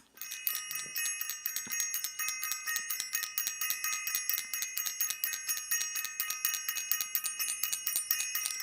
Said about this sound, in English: I want to ring the bell for self-invested and for everyone who is self-invested